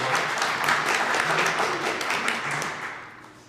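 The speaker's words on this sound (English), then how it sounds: "give them a round of applause" An audience at a Union County council and school board meeting breaks into a round of applause, steady dense clapping from a room of people that fades out toward the end.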